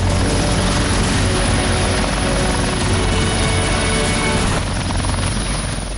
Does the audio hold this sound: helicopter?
yes